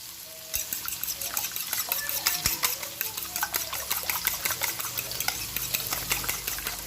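Eggs seasoned with salt and pepper are beaten in a bowl, giving a steady stream of quick, close clinking strokes that run continuously from the first second onward with no talking.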